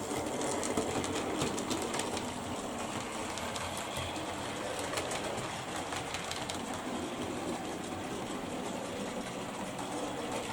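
A model train runs steadily along its track with a continuous mechanical whirring and rattling, close and fairly loud, no talking.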